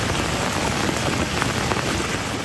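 Heavy continuous monsoon rain pours down in Chelakkara, Kerala, a dense, steady roar of falling water with no pauses.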